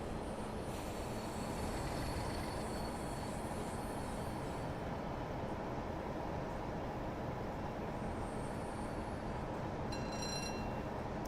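Train running on rails with continuous close rumble and clatter, faint wheel squeal near the end, no talking.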